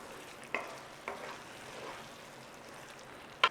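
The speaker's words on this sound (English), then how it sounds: "So we're looking at simmering this for about 10 minutes. Just keep coming along, give it a stir, make sure nothing is stuck on the bottom" Mince and onion filling simmers quietly in a pan with a faint bubbling hiss, broken by a few sharp scrapes and knocks of a spoon stirring along the bottom, close and with no talk.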